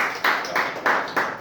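Audience members at a network marketing seminar clap in several brief bursts, each swelling and fading within a fraction of a second, close and fairly loud with no voices.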